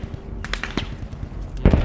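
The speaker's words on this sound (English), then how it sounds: "I'm taking fire from fucking riflemen, though." Enemy riflemen fire at the player in a trench combat shooter game, a few sharp cracks and a heavier burst near the end over a low rumbling background, moderately loud.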